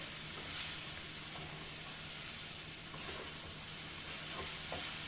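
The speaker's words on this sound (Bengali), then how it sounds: "আবার ঢাকা খুলে একটু ভালো করে নাড়াচাড়া করে নিতে হবে" Spice masala frying and being stirred in a pan for a vegetarian papaya and chana dal curry, a steady close sizzle with scraping stirs now and then and no voices.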